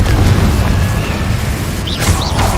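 A Confringo explosive spell in Hogwarts Legacy bursts with a loud, deep rumbling boom that rolls on for the whole moment, with a few sharper crackles near the end.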